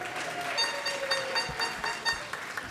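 Light audience applause at a Purim schpiel, a scattered patter of claps that runs steadily for a few seconds at moderate distance.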